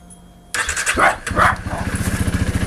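A Honda CRF300 motorcycle engine cranks and catches with a roar, revs briefly, then settles into a steady, loud, chugging warm-up idle.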